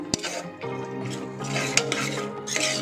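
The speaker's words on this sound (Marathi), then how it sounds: "हे चांगलं मिक्स करून घ्यायचं हे चांगलं मिक्स झालं ना" A spoon stirs mixed sprouted lentils in a cooking pot, giving close, continuous scraping and clinking strokes against the metal over a steady hiss, with no talking.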